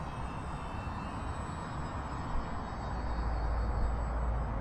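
A UMX Turbo Timber Evolution RC plane flies overhead in wind, its small electric motor giving a steady, continuous drone that swells slightly toward the end.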